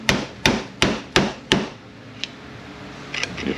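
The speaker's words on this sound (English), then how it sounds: "Get you a pry bar and a hammer and just get right in there" Five sharp hammer blows in a steady rhythm on a 4T65E transmission part with a pry bar, ringing metallic strikes close by, followed by quieter clinks and rustling.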